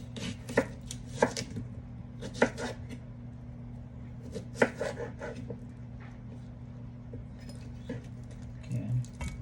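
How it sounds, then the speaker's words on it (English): A knife chops ingredients for a cough and cold juice on a board, several sharp irregular cuts spaced a second or two apart over a low steady hum, fairly quiet and close. "Now I'm gonna cut it."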